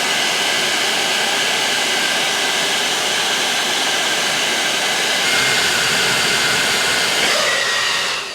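An electric air pump runs on its cold setting to inflate an Intex air mattress, giving a loud, steady whooshing drone that carries on unbroken, with a slight shift in tone partway through as the mattress fills.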